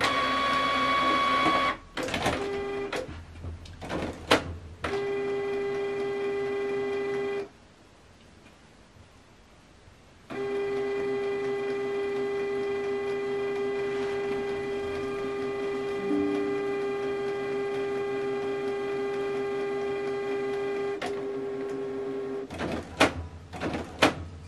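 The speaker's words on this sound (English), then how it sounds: "this document now is going to print out from this printer" An office printer running a print job: mechanical clicks and ticks, then a long steady motor whine with feeding noises, a pause partway through, and a final rattle of clicks, close and moderately loud.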